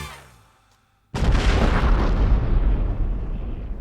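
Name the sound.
bombshell explosion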